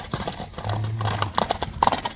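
A horse runs nearby, its hooves clip-clopping in an uneven, brisk rhythm that grows sharper and louder toward the end, over a low background rumble.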